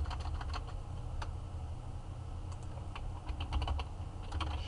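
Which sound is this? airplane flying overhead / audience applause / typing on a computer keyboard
typing on a computer keyboard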